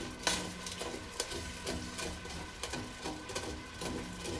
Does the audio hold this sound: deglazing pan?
yes